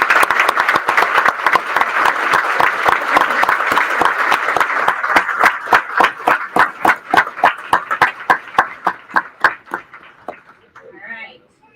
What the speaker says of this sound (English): So give you a big round of applause.